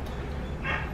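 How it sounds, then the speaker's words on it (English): A dog barks and whimpers in the background of a home, a short faint yip rising near the end over a low room hum. "y'all probably hear my dog in the background barking, ruining my video."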